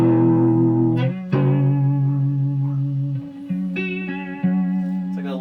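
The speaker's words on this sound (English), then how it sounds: "It's like a Leslie speaker kind of vibe." An electric guitar strums sustained chords through an EarthQuaker Devices Aqueduct vibrato pedal, each chord wavering with a pitch wobble, several chord changes ringing out alone with no voices.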